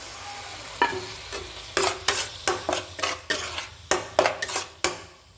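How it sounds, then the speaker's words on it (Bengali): Spices for a katla fish curry being stirred in a pan, a spoon scraping and clinking against the metal in a steady series of close, sharp strokes over a soft sizzle, with no talk. "দিয়ে দিলাম অল্প পরিমাণে লঙ্কার গুঁড়ি, দিয়ে এটাকে নাড়াচাড়া করতে থাকবো।"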